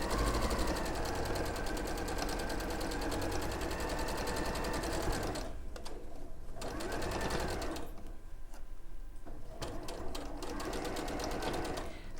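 Close, loud sewing machine stitching a quarter-inch seam on a patchwork peony panel, a rapid continuous whir broken by two short pauses before running again.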